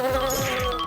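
A pesky housefly hums in a cartoon, a steady, close buzz with slight wavering pitch, short and alone.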